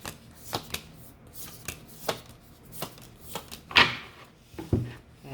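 Tarot cards being shuffled, a run of crisp riffling snaps and soft flicks repeating every half second or so, close and fairly quiet with no one speaking.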